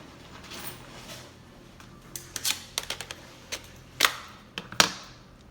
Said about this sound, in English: pull out my calculator and show you how to type this in